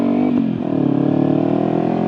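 A 2016 Kawasaki Ninja 300 motorcycle engine drones steadily close by, with a brief rev near the start and a constant low rumble throughout.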